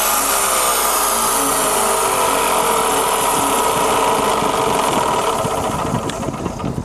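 An Italian Induma IS/43 turret milling machine runs at high speed, its motor and spindle giving a steady, loud whine and hum with a faint mechanical buzz, unchanging and close, with no talking.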